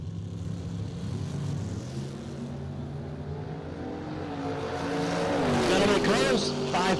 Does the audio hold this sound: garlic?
no